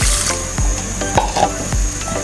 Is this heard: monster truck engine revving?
no